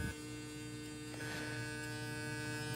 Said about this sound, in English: I'm kind of listening to the clipper. I want to know if it's cutting.